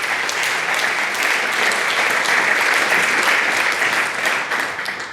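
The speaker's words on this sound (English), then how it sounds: "Give her a round of applause." An audience claps together in sustained applause for a guest at an event, a dense, steady patter held throughout at close range, tapering slightly near the end, with no talk over it.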